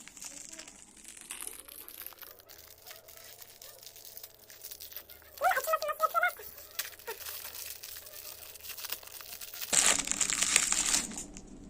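A surprise egg toy package is torn open and unwrapped, giving bursts of close crinkling and crunching plastic with a brighter rustle near the end over a low steady hum.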